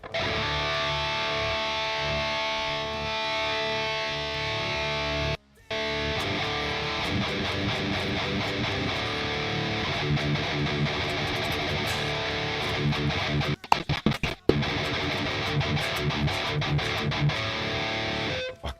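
Heavy distorted electric guitar run through an amp simulator plugin, playing thrash-style riffs in a dense, loud, sustained wall of sound with a brief cut near five seconds and choppy stops toward the end, no voices.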